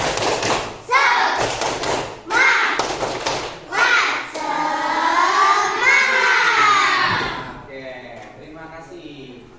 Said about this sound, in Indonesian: Mari kita awali dengan tepuk semangat.